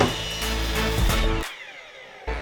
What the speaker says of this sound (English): Now we've got our cutting list, we can head out to the drop saw and cut to length.